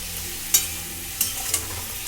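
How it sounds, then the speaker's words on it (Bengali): Cauliflower frying with turmeric powder in a pan, a soft continuous sizzle broken by three sharp scraping clatters of the spatula being stirred through. "একটু হলুদ গুঁড়ো দিয়ে ফুলকপিটাকে আমি ভালো করে ভেজে নেব"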